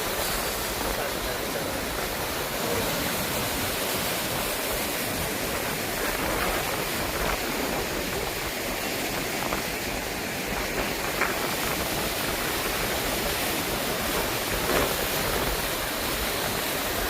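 Floodwater rushes after a cloudburst past a dam with no gates, making a constant loud, dense roar that does not let up.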